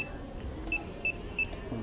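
Honda Fazzio scooter alarm sounding three short, evenly spaced high electronic beeps over a low background hum, each beep clear and fairly loud.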